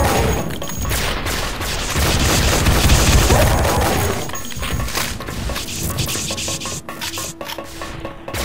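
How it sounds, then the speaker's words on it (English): Rocket-launcher blasts in Duke Nukem 3D, run in Eduke32, hit mounted guns in building windows. They make a dense, loud, continuous barrage of crashing, gritty explosions that swell in the middle and stay busy to the end, with no voices. "And we'll use the RPG to take out the mounted guns in the windows."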